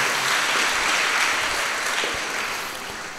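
Congregation clapping in thanks for the priests at a Lourdes feast Mass in a Kurnool cathedral, a steady, dense wash of applause that holds strong and slowly fades toward the end, with no voices over it.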